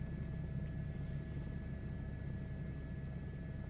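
Helicopter in Microsoft Flight Simulator 2024 in VR, a constant low rotor and engine rumble droning evenly and fairly quietly, with no voices over it.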